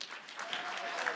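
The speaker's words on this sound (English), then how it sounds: "cheer and clap now" A debate audience in a hall claps and cheers, a short burst of dense, continuous applause with scattered whoops, heard from within the room.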